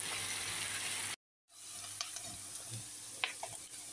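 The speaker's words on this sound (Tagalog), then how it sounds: "pahaluin ko na." Ground pork frying in a pan, a soft steady sizzle that cuts out briefly, then resumes with a few faint stirring scrapes and clinks.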